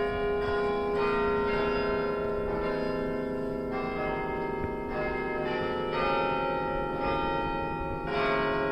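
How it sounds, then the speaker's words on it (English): The Cornell chimes, a tower set of bells, ring out a slow melody, each struck note swelling and overlapping the last in a steady, resonant sequence with no voices. "So this is the Cornell chimes."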